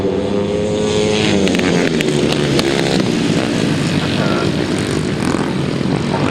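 350cc solo grasstrack motorcycles at a racing meeting scream flat out along the straight, a loud, continuous wall of revving engines with shifting pitches as the bikes pass close by.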